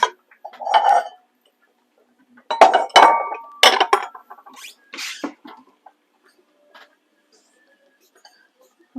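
A purple bowl clinks in a home kitchen as it is picked up and set down while a side salad is prepared; a few bright, separate knocks and chimes sound close by, with quiet pauses and faint handling noises between them.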